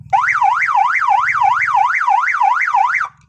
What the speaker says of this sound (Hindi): तो भाई ये सायरन ऐसे आवाज निकालेगा।